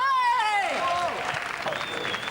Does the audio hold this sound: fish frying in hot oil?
no